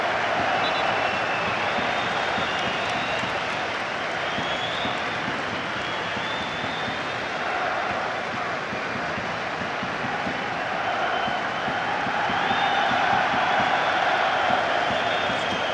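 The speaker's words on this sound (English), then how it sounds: "The Celtic fans have clocked Henrik Larsson, and many of them are applauding him rather than watching the game at the moment" Celtic supporters applaud during the Scottish Cup Final against Motherwell, a steady distant wash of stadium clapping and crowd noise lasting throughout with no clear individual claps standing out.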